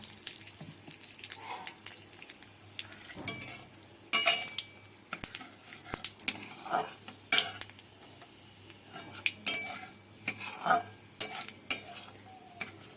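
Black cumin seeds frying in hot mustard oil in a wok, giving a soft sizzle under irregular clinks and scrapes of a utensil against the pan, with no talking.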